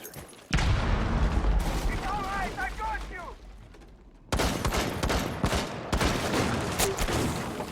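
A DMR rifle in the video game Rainbow Six Siege fires in bursts of loud, sharp cracks. Dense gunfire runs through the whole stretch, with an abrupt cut in the middle and a caster talking over the shots.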